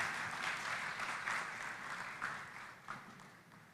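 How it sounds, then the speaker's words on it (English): A large audience at the COMESA Business Forum in the KICC conference hall gives a sustained round of applause, steady and even, fading slightly toward the end. "let's give her a round of applause."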